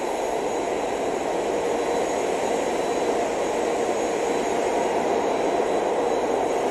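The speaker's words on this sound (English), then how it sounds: "it's a really big six-cylinder engine" A very large six-cylinder ship engine runs with a steady, unbroken roar and deep rumble that fills the whole stretch at constant loudness.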